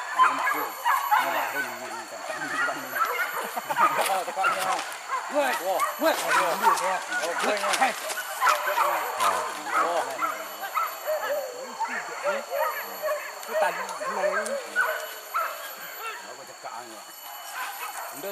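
Dogs bark and yip on and off at a moderate distance during a wild boar hunt in forest, while people talk over a steady background hum.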